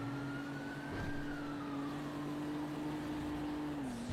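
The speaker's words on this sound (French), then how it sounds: "C'est les pompiers, c'est les pompiers" Fire engine siren in the GTA RP video game, a steady wailing tone that rises and slowly falls, loud and continuous over a low traffic rumble for the whole stretch, with no speech.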